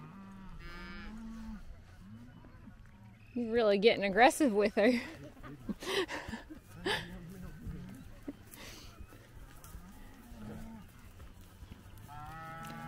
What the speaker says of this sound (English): I'm just taking it nice and easy to let the cows find their calves and pair up